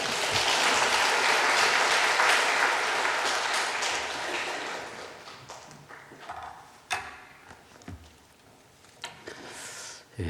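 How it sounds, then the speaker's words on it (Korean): A church congregation claps to welcome a guest preacher at a men's mission dedication service, loud and dense at first, then thinning into scattered claps and thumps that die away. "우리 먼 길 오셨는데 박수로 환영하겠습니다."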